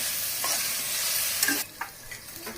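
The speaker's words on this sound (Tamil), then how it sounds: "இப்போ பாருங்கள், வெங்காயம் தக்காளி இஞ்சி பூண்டு பேஸ்ட்லாம் நல்லா வதங்கியிருக்கு." Onion, tomato and ginger garlic paste sautéing in a pan for prawn biryani, a steady close sizzle with a few stirring scrapes, the frying easing off after about a second and a half.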